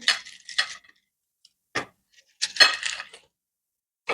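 Small hard capsule caps clatter and clink against the plate of a manual capsule filler at home, in several close, sharp bursts separated by short silences.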